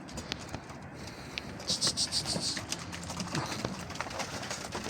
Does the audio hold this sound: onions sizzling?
no